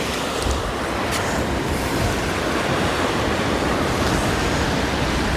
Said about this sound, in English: so it doesn't go down into the waves and pick the muck up.